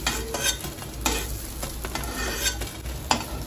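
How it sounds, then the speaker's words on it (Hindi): Soybeans fry in a pan with a constant crackling sizzle, broken by frequent scraping stirs and light clinks of a spatula against the metal. "और ये ऐसे फ्राई कर लेंगे, बस 1 से 2 मिनट में ये फ्राई भी हो जाएगा"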